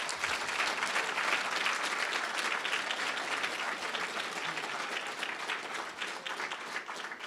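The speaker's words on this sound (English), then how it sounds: "So I want you all to turn to these young people and give them applause" A crowd of city leaders and guests at the Detroit Youth Rising 2019 event gives sustained applause. The clapping is full and even throughout, heard from a slight distance with no talking over it.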